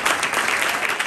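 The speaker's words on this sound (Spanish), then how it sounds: "Denle ofrenda de palmas a Jesús" A church congregation at a Spanish-language service bursts into loud, dense applause, a brief wash of many hands clapping at once with no voices over it.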